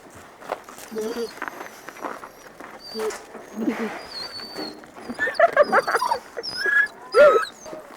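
A one-year-old dog whimpers in thin, high whines and short yips, scattered through the clip, while people talk nearby and footsteps move about.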